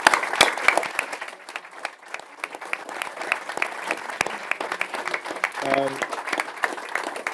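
A crowd at a live UK political event applauds a speaker, a sustained, fairly close wash of many clapping hands lasting several seconds, with a voice briefly heard near the end.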